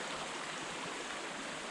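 Faint, steady rush of creek water flowing past an old concrete crossing, a continuous broadband wash with no voices.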